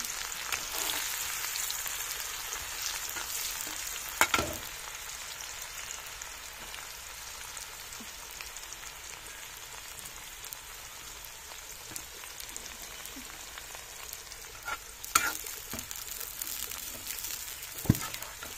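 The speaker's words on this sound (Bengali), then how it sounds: "আর এদিকে তেল গরম হয়ে গেছে, এখানে হচ্ছে পেঁয়াজ বেরেস্তা করবো আমি।" Sliced onions deep-frying in hot oil for crisp fried onions, a continuous dense sizzle and crackle throughout, with a few sharper pops and clinks of a utensil near the pan, no talking.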